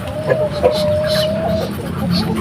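Chickens cluck and squawk close by, a few short calls over a steady low hum, with one long drawn-out call.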